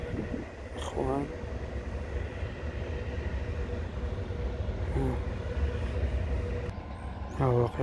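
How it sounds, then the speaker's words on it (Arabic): A Moroccan car-carrier freight train rolls past Ksar El Kebir station with a steady low rumble and rattle of rail cars. People talk over it at intervals. "ها هو قطار السيارات المغربي العالمي"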